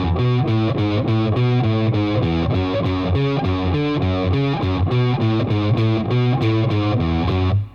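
Distorted electric guitar chugging a riff with a muffled, rough tone from poor technique, a steady driving rhythm of palm-muted notes played loud and alone throughout before stopping abruptly at the end.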